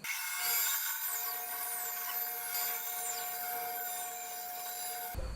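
Saw cutting a flat edge on a spalted pear log: a steady, high whining rasp of blade through wood, fairly faint and continuous for about five seconds with no talk.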